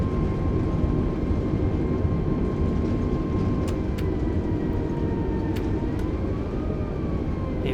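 An Airbus A320 (A32NX) rolls out after touchdown in Microsoft Flight Simulator, reverse thrust and spoilers deployed: a steady, loud broadband engine roar with a faint whining tone, plus a few brief ticks and clicks, and no talk.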